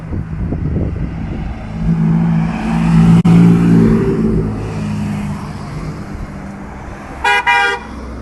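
Cars at an outdoor auto and motorcycle meet rumble past and rev, with engine drone swelling and easing, then a short double car-horn toot near the end.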